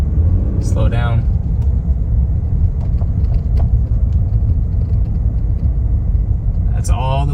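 Wind and rattle noise around the window inside a third-generation Toyota Tundra rolling slowly over a bumpy road, a steady low rumble filling the cab with occasional thumps, and a person talking briefly at the start and end.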